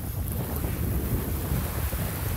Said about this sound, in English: it's probably windy now